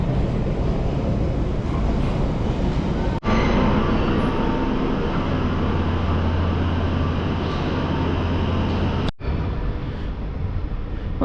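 A London Underground tube train rumbles into a station on the line toward Cockfosters, a loud continuous roar of wheels and motors with a steady low hum, broken by two sharp clicks, heard up close from inside the cab.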